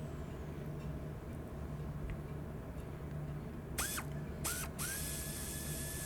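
A wrench on a Toyota Camry four-cylinder's alternator belt tensioner clicks a few times like a ratchet, then short squeaky strokes follow, faint and close in a quiet garage with a low background hum.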